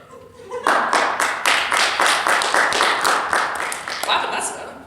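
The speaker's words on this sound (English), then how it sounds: "I'm clapping for drinking water." A person claps steadily in a rhythmic series of about a dozen sharp, evenly spaced hand claps lasting several seconds, with background room noise.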